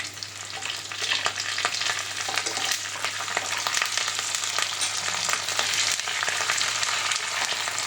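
Curry leaves hiss and crackle steadily in hot tempering oil in a home kitchen, a loud continuous sizzle with scattered sharp pops throughout and no voices.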